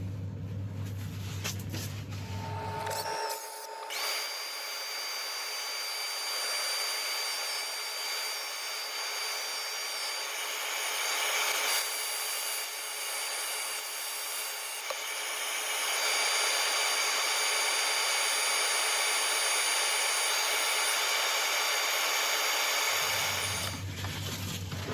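Abrasive sanding of a turned wooden piece with a sulphur inlay spinning on a lathe, a steady broadband rushing hiss with a whining motor tone running continuously for about twenty seconds, alone without talk.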